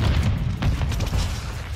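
Rocket launcher explosions in a video game, a steady low booming rumble lasting throughout with several swells of burst-like noise, loud and dense with no talk over it.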